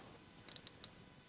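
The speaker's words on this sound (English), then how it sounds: "That little bar that makes this clicking sound is just a pleasure." A few tiny, crisp ratcheting clicks from a Tusenö Shellback V2 dive watch bezel, four or five quick ticks in close succession, faint and nearby in near silence.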